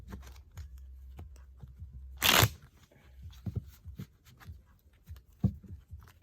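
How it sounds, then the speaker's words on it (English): A worn, ragged deck of tarot cards is shuffled by hand in a quiet room, giving soft riffling, tapping and sliding noises with one louder burst of card flutter, close and fairly faint. "gotta shuffle these like this sometimes. These cards are raggedy too."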